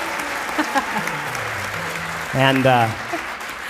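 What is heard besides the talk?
audience applause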